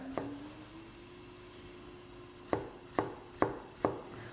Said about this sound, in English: turning them round and chopping them that way makes it much, much easier to get a uniform shape